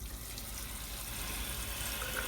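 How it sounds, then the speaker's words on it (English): A shower running from a Chronomite R Series electric tankless water heater, a steady even hiss of spraying water, faint and constant with no talking. "we go in to take a shower, and we turn the shower on."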